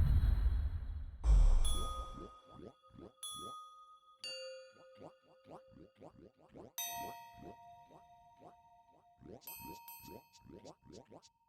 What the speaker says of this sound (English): This is the loudest these wind chimes get.